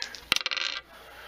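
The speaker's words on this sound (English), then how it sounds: "go ahead and roll me a percentage dice" Percentage dice are rolled during a tabletop role-play stealth check. One sharp hit is followed by a quick run of rattling clatters that settle within half a second, with no voices.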